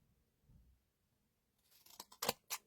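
Scissors cutting away excess designer series paper from a handmade card, a quick run of four or five crisp snips close up after a near-silent pause.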